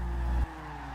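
Tires squeal on a drifting S13 in Forza Horizon 2, the overloaded front tires scrubbing loudly over a steady engine drone before the noise drops off abruptly partway through.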